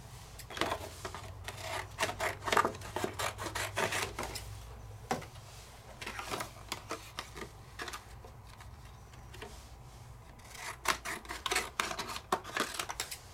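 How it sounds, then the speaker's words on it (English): Scissors snip through paper during a card-making session with brush tip markers, a series of quick, close cutting and rustling strokes in irregular bursts separated by short pauses. "Scissors, please."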